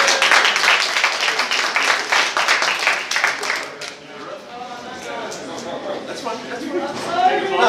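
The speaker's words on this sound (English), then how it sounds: "Give her a round of applause." An audience at a cosplay contest claps and applauds loudly for several seconds, then the clapping fades as voices take over.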